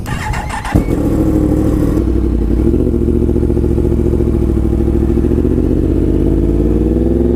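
Yamaha MT-10 motorcycle engine fires up after a brief start and settles into a loud, steady idle with a deep, even throb, close to the microphone with no talking.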